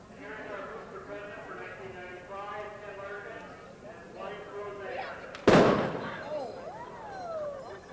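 A single loud, sharp cap gun bang cuts through outdoor ambience at a parade, followed by a fading echo; sheep bleat and voices are faintly heard around it.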